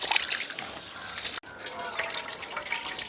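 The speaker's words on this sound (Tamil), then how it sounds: "அரிசி வந்து நல்ல வடிவாக கழுவி வடித்து எடுத்துட்டோம்." Rice being washed and drained in water in a village kitchen, with steady splashing and trickling pouring throughout and one brief pause midway.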